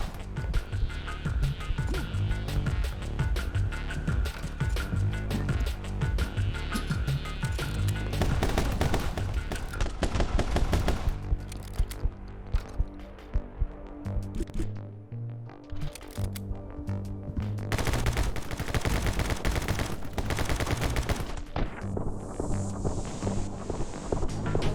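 Gunfire in the action video game My Friend Pedro, with dense, loud rapid shots and bursts running almost continuously over game music, easing briefly midway before resuming.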